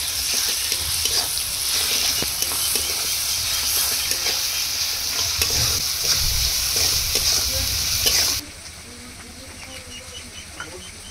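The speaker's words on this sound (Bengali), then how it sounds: "দিয়ে দেবো রসুন বাটা, আদা বাটা আর জিরা বাটা। মশলাগুলো একসাথে কষিয়ে নেব" Onions already fried golden sizzle steadily in a pan with garlic, ginger and cumin pastes for a chicken curry, a dense hissing fry that runs loud and even, then drops abruptly to a much quieter simmer near the end.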